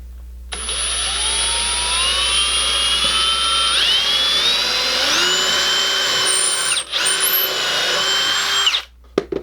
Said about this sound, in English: allow the bit to drill a hole at an angle